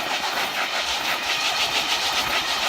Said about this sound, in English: So we move all the tiny balls inside the Tiraball, move it around it.